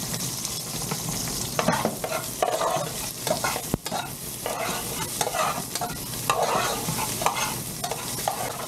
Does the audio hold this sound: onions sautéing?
yes